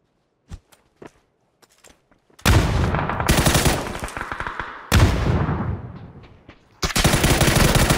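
Gunfire in the battle royale game PUBG: a few sharp single shots, then loud sustained automatic bursts that start and stop over several seconds, close and dominant with almost no talk.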